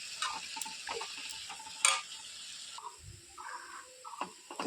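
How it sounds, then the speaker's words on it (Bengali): Small chopped potatoes frying in a generous amount of oil, a soft close sizzle broken by light clinks and scrapes of stirring. "আলুটাকে সুন্দর করে একটু বেশি করে তেল দিয়ে ভেজে নিচ্ছি।"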